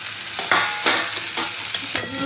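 Vegetables stir-fried in a pan, with a steady sizzle broken by sharp scraping strokes of a spatula about every half second, close and moderately loud, no talking.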